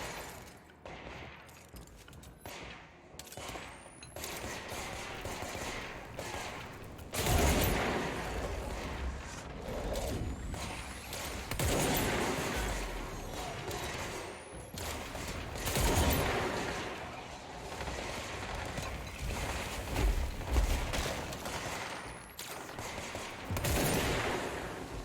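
Gunfire from the player's weapon in Control, heavy shots cracking in clustered bursts across the stretch with short lulls between volleys, loud and close.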